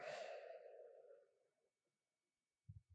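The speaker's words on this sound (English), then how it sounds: "Breathe out." A long, soft breath out during a beginner qi gong exercise fades slowly away over a couple of seconds. A few faint low thumps follow in near silence.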